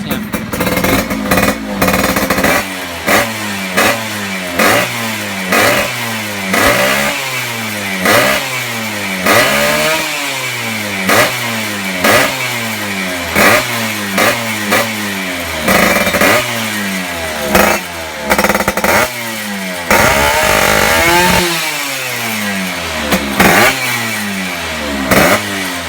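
A Yamaha F1ZR two-stroke motorcycle with a ported cylinder block is revved repeatedly with the throttle, producing loud, close, rhythmic bursts of engine roar that rise and fall in steady succession throughout.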